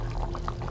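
A small pour of ghee trickles onto a finished vegetarian green bean and potato curry, a soft, steady liquid sound lasting under a second with no one talking.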